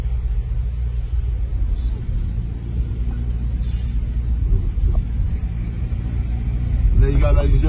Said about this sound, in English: That is us driving over Tower Bridge, and it is not falling down.